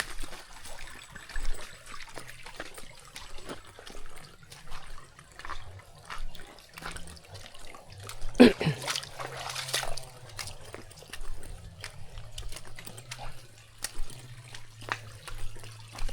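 Floodwater overflowing onto a farm path during heavy flooding, running along a new course instead of the creek, gives a steady moderate rush and trickle with scattered splashes, heard continuously throughout.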